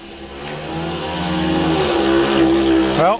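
A speedway motorcycle engine roars loudly during a 1999 race, holding a steady high whine that climbs, then cuts off abruptly as the engine fails near the end.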